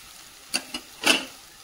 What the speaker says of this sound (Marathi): इथं बनवते मी सोयाबीन, कांदे, टमाटे, अद्रक लसूणची पेस्ट मस्तपैकी इथं मी परतून घेतलेली आहे